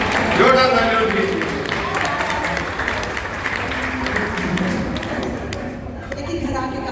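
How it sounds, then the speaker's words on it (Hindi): Loud applause from members of a laughter club, a broad continuous clatter of many hands with some nearby taps and thumps, fading slightly toward the end. "जोरदार तालियां प्लीज"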